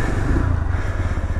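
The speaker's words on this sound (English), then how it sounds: "let's take that off so I can start the engine." A Zontes Mantis 125 motorcycle engine runs close by with a steady, low, throbbing rumble and no talking.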